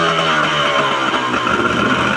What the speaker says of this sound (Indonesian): Suara garang khas dari 25 PK. Dari knalpot yang sangat besar ya.